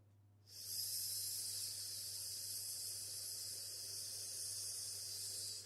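A person exhales slowly on a sustained hissing "s" sound during a flute breathing exercise, a soft, steady, close hiss starting after a half-second pause and holding for about five seconds.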